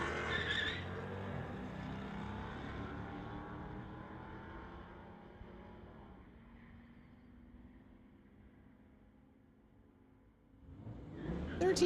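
Dodge and Camaro street-legal cars launching side by side at a drag strip, engines roaring loud and close at the start, then fading into a long distant drone before another loud burst of engine noise at the end.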